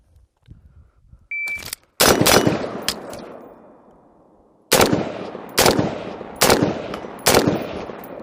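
A rifle fitted with an LPVO and red dot fires during a timed shooting stage: a start beep, then several loud, sharp gunshots spaced about a second apart, each followed by ringing echo.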